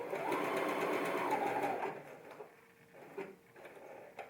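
A domestic sewing machine stitches a button onto fabric, loud and steady for about two seconds, then gives a few softer, short bursts of stitching with brief pauses between them.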